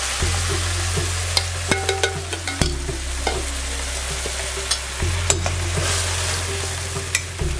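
A ground spice paste hits hot oil with toasted cumin in a pan, sizzling steadily and loudly up close while a spoon scrapes and clicks repeatedly through the frying.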